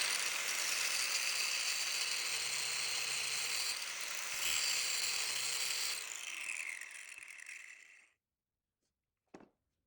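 A piece of iron being cut with a power tool, a loud continuous high-pitched grinding whine for about eight seconds that cuts off abruptly, followed by a brief clank.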